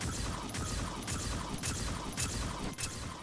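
Zadak Plasma Discharger shotgun from Aliens: Fireteam Elite fired in rapid succession, about five heavy blasts in quick rhythm over a dense rumbling roar, loud and close.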